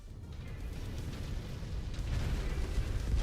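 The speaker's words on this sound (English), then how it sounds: "Incoming missile. Ow. Explosion detected." Explosions in the mech combat video game MechWarrior 5, a low rumbling blast that swells and grows louder toward the end, with no speech over it.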